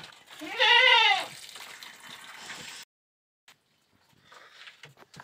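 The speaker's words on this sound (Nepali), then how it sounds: "बाख्राहरू हिँडिरहेका छन्" Goats being led out from home to graze on a rainy day, with a loud close bleat near the start followed by soft shuffling and faint rustling, then near silence and scattered light sounds.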